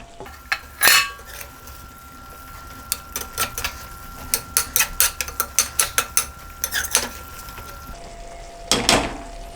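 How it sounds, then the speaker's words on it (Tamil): A pot lid lifted and cabbage curry stirred in the pot, sharp metallic clanks at the start and end around a quick series of close scraping, clicking spoon strokes, no talking. "இப்போ இடையிலே திறந்து நம்ம அதை லேசாக கிளறி விட்டுருவோங்க"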